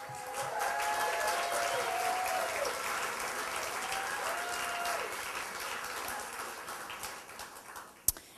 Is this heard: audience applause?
yes